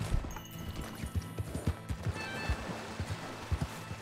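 Horse hooves clip-clop at a steady galloping rhythm while riding in the video game Red Dead Redemption 2, repeated thumping beats close by under a quiet background with music.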